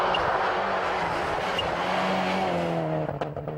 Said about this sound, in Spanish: Fíjate este coche cómo viene.